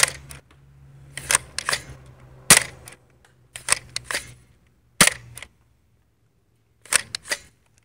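A Flip Fury blaster is fired over a chronograph, giving a sharp close snap followed by a series of clicking and rattling mechanical bursts with brief quiet gaps between them.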